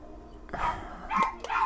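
A dog barking inside a house, two or three short sharp barks close by against a quiet room.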